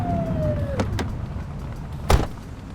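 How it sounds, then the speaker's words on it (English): A police car siren briefly blipped in a police patrol video game: a short wailing tone that slides downward and cuts off, followed by a couple of dull clunks and a sharper thud over a steady engine hum. "Get behind them and blip the siren and make them pull over."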